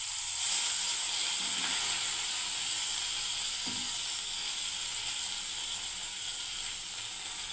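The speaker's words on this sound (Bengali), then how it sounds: "দেখুন মশলা বেগুন ফ্রাই" Spiced eggplant slices sizzling in a pan of hot oil, a steady bright crackling hiss that runs unbroken and fairly close for the whole stretch, with no voices over it.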